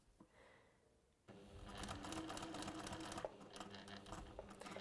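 A sewing machine starts up after a quiet moment and runs steadily, stitching a seam with a fast, even mechanical chatter close by.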